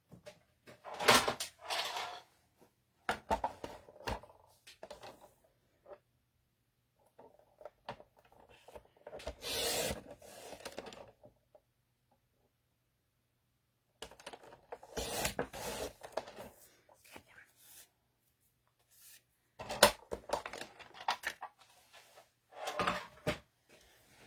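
Paper being trimmed for a handmade card, with short bursts of cutting and sliding scrapes scattered across the clip, separated by quiet pauses; close and moderately loud, with no talk.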